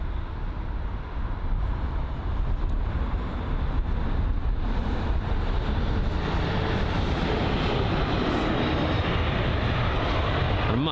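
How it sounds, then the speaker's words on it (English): A British Airways Airbus A320neo jet landing at London Heathrow, its engine roar steady and loud throughout, a broad rumbling wash with no voices over it. "The British Airways A320neo."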